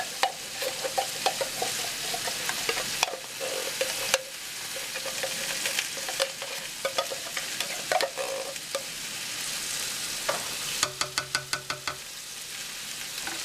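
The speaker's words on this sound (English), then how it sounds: "I'm just going to add the small 15-ounce can of tomato sauce to that." A 15-ounce can of tomato sauce goes into a sizzling pot and gets stirred, giving steady frying hiss with repeated scraping and tapping of the spoon against the pot, close by.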